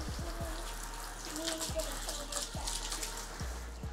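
Water sprays from an adjustable hose nozzle onto a bicycle being washed in the rainy season, a steady close hiss running throughout with a few faint low knocks.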